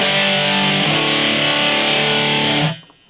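Electric guitar through a BOSS eBand JS-10 with the reverb switched off, a sustained distorted chord ringing loud and steady, then cut off abruptly with a dry stop.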